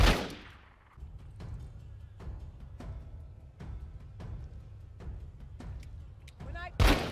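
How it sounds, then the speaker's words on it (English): Gunshots fired through a dumpster in The Walking Dead: Saints & Sinners, about eight sharp cracks spaced roughly every half second to second over a low rumbling background, with a louder blast at the very end. "She's shooting through the dumpster."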